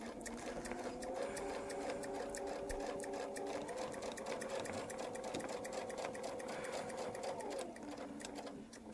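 A quilting sewing machine stitches along a template line for a Baptist fan pattern, its steady, close mechanical whir running nonstop with a faint rhythmic needle ticking.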